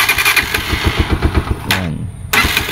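A motorcycle engine starts: a quick chugging crank of rapid pulses, a brief cut-out, then the engine catches and runs with a loud, close, clattery idle; no talking.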